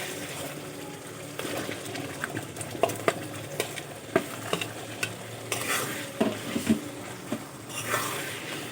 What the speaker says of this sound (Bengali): এখন আমি ভেজে রাখা আলুগুলো দিয়ে দেব।